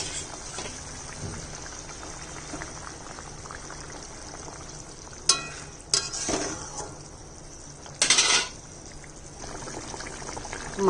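Fried fish goes into a light, simmering curry made with cumin paste, giving a low bubbling hiss punctuated by three brief splashing, clattering bursts.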